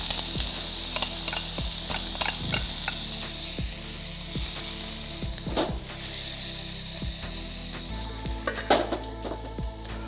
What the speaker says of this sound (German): Wie das hier brutzelt.